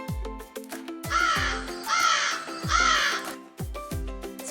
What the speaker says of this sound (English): A crow says caw and is very smart.